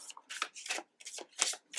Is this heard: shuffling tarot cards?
yes